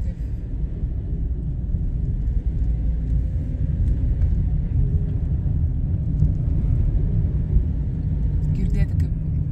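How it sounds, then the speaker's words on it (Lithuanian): Wind rushes past a car driving the Tunisian coast roads, heard from inside as a steady, close low roar and rumble that holds unbroken throughout. "Girdėti, kaip vėjas košia"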